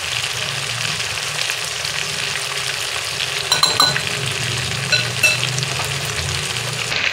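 Pieces of fish sizzle and fry steadily in a pan of hot oil for a fish curry, a constant loud crackle with a couple of brief clinks partway through.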